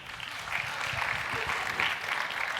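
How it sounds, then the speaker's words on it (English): Audience applause at a sports-science summit talk, a steady broadband patter of many hands clapping that holds evenly for a few seconds with no talk over it. "Round of applause."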